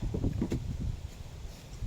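Wind buffets a microphone outdoors in low, uneven gusts of rumbling, strongest at the start and trailing off toward the end. No one speaks.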